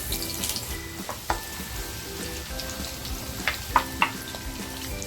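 Onion frying in hot oil for a paneer Hyderabadi masala gives a steady, close sizzle, with a few sharp spoon-on-pan clinks as it is stirred.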